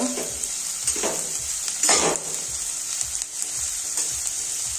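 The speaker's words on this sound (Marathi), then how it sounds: "शिमला मिरची कांदा परतून घ्यायचा आहे मस्त" Chopped onion and capsicum sizzle steadily in hot oil, a continuous bright frying hiss with periodic scraping stirs of a spatula in the pan, close and fairly loud with no voices.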